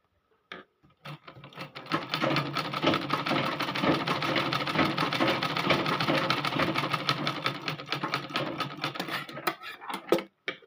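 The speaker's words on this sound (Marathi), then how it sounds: "जाड शिलाई करायची आणि जाड शिलाई टाकायची" A sewing machine runs a long continuous burst of thick stitching on net fabric for a puff sleeve, a rapid mechanical whirr with dense clicking that starts, holds for about eight seconds, then stops with a few final clicks.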